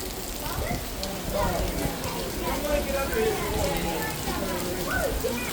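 Rain falls through a storm as a steady, close hiss of drops spread evenly across the clip, with a voice talking over the downpour.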